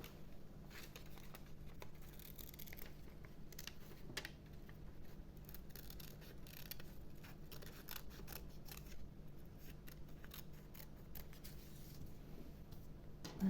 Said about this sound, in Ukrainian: Тепер вирізаємо ручки чайника і чашечки.